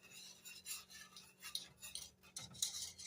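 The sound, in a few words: stirring vanilla pudding ingredients in a pot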